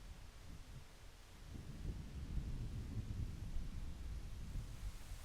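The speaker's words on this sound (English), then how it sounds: "Oh, now it's raining." Steady rain with low rumbling thunder in The Legend of Zelda: Ocarina of Time, a soft continuous wash that swells slightly after the first second and holds at a moderate, even level throughout, with no talking.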